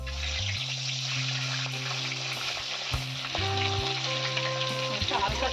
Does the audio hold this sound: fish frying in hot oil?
yes